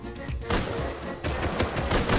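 AK rifle fire in the survival game Rust, loud and close, with dense overlapping bursts of automatic shots that continue through the whole stretch with only brief dips.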